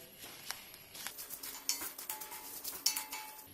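Curry leaves being stirred as they roast in a stone pan, making soft repeated scraping and clinking strokes, close and fairly quiet, with no voices.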